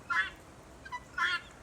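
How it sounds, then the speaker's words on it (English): Female guinea fowl giving their two-syllable call: two loud, harsh bursts close by, a faint shorter note between them, with no talking. "that two syllable sound you just heard, some people describe it as saying come back, come back."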